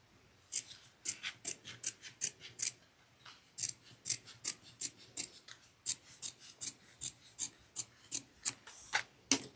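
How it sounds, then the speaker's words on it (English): Scissors trimming a bag's lining fabric down close to the seam, a long run of quick, crisp snips in steady bursts, near and distinct with nothing else audible. "we're going to trim the lining piece down to 1/8 of an inch in the seam"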